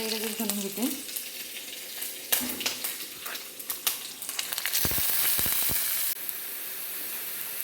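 Mustard seeds, cumin and chillies crackle and sizzle in hot oil, sharp pops and a few utensil taps rising into a loud continuous hiss near the end, with no talk.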